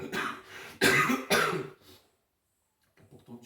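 Several harsh, chesty coughs from one person in a row, the middle pair loudest, during a theology lecture. They are followed by near silence and then a faint, soft throat sound.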